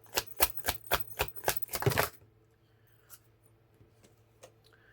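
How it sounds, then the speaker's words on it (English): Tarot card deck shuffled in a single pass, a rapid run of about eight crisp riffling bursts over two seconds, then quiet room tone with faint handling. "I'm going to do one shuffle through the deck."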